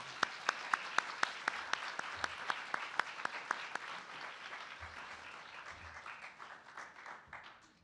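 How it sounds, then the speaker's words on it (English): Audience applause at a library conference opening keynote greets speakers as they come up, starting with sharp distinct claps that blend into a sustained, fading round of clapping. "Join me in giving them a round of applause as they come up."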